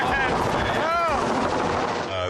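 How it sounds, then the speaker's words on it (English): A helicopter coming in to land on a set of cans, its rotor making a loud continuous chopping roar close by, with the tone sweeping as it descends. "helicopter guy landed this thing like dead center of all these cans of Go Fast"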